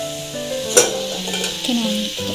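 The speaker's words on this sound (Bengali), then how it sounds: "এখানে আমি আলু ভাজা বসিয়ে দিয়েছি" Potatoes sizzle as they fry in a pan, with a brief clink of stirring and a short crackling burst over the steady frying hiss.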